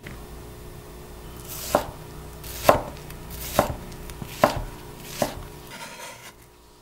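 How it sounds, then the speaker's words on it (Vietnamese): Knife thinly slicing shallots on a cutting board, five sharp evenly spaced chops about a second apart, close and clear with quiet room tone between. "Hành tím này mình cắt lát mỏng, càng mỏng càng tốt nha."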